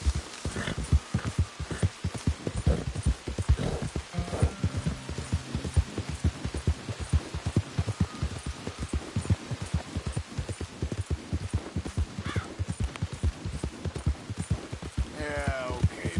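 A horse gallops in the video game Red Dead Redemption 2, its hooves pounding in a fast, steady rhythm of close, distinct beats that continue throughout.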